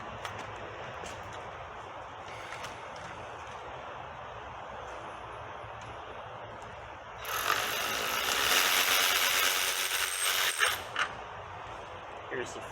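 Tools work loose the bolts that hold a transmission to an engine block, first as faint mechanical clicks and then as a louder, sustained ratcheting burst partway through.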